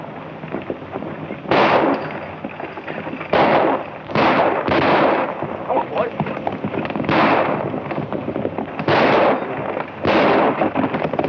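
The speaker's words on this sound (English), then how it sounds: "I want you to fire over their heads." Gunshots fired over riders' heads in an old western film, a ragged series of loud cracking shots in bursts with rumbling echoes and noisy action behind them.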